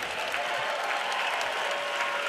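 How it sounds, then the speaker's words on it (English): Steady, dense applause from a crowd after a three-round cage fight, a continuous wash of clapping at moderate distance with no break. "how about a round of applause for both of these fighters?"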